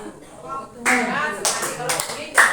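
Seminar attendees playing a clapping ice-breaker game give sharp claps, a few distinct bursts spaced across the moment, amid a speaking voice.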